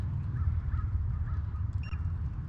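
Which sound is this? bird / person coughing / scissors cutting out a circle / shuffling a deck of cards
bird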